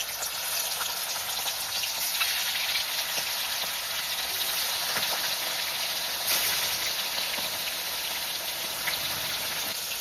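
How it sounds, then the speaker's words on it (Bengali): Meat pieces fry in hot oil for chicken biryani, giving a steady, even crackling sizzle that carries on without pause for ten seconds at moderate loudness, with no talk. "এবার এই তেলের মধ্যে মাংসগুলো এক এক করে ভেজে নেব"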